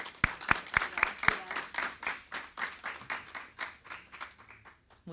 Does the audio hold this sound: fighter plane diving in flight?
no